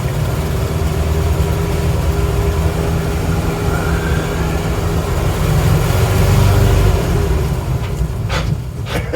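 1972 Ford C600 COE cab-over truck with a 361 engine driving, a loud steady low rumble and drone that swells midway, heard up close with no talk.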